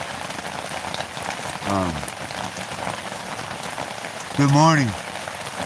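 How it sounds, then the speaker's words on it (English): Steady, loud rain pours down through trees and patters on surfaces in an even hiss throughout, with a motorcycle parked nearby. Someone speaks two brief greetings over the downpour. "it is pouring down raining."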